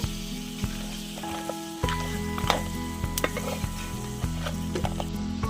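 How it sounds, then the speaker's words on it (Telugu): Tamarind juice hits a pan of village-style spotted crab curry, setting off a loud, steady sizzle and frying crackle with scattered clicks and scrapes throughout, no voices. "నేను ఒక్క నిమ్మకాయ సైజ్ అంత రసం పోసుకుంటున్నాను"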